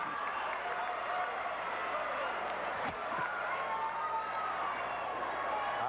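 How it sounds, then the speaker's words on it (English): Somerville fans cheer and clap from the stands at a 1999 high school basketball final against Bridgewater-Raritan, a steady roaring crowd wash with a sharp bang partway through and an announcer talking over it. "here's our entertainment once again as the Somerville Rooters start cheering"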